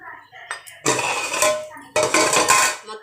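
Metal clatter of a lid going onto a cooking pot of simmering horse gram soup (ulavacharu) in a home kitchen, two close, bright clanking bursts with a short ringing tail.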